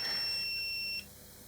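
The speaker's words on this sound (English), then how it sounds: "So now it's beeped." A SUNLU filament connector gives a thin, steady electronic beep lasting about a second once it has preheated, quiet and alone, before fading to a faint hiss.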